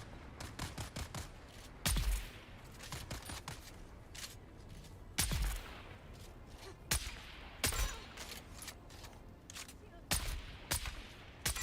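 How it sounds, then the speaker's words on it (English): Triple-shot rifle fire in the video game Dune Awakening, each trigger pull releasing a quick burst of three cracks; sharp bursts repeat every few seconds over a steady game background. "It shoots 3 bullets with 1 shot."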